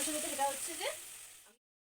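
Soaked-in-ghee spices and vegetables sizzle in a pan before paneer is added: a short, steady crackling hiss with a voice-like murmur over it, stopping abruptly after about a second and a half.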